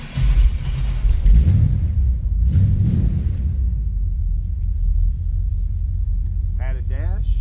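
A 1956 Oldsmobile Holiday Coupe with an electric fuel pump starts up, its engine settling into a loud, steady low rumbling idle close by.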